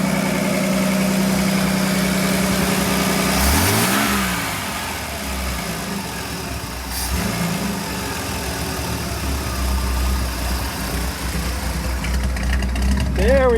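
The straight-six engine of a Ford F-150 runs with a fault, idling roughly, then climbing and dipping as its RPM recovers, with a loud steady drone throughout and a few revving swells.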